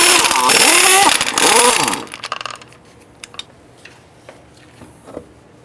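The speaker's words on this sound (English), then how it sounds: "Using a 3/4 inch socket, we're going to go ahead and remove the wheel." Impact wrench whirring loudly in two rising, pitch-shifting bursts as it spins lug nuts off a Jeep Grand Cherokee front wheel with a 3/4 inch socket, followed by metallic clinks of the nuts dropping and a few faint knocks.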